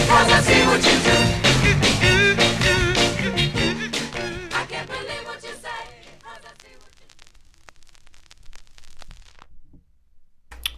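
A vinyl record spins loudly, a dense soul track that fades out over several seconds, leaving quiet surface noise before a faint click at the end.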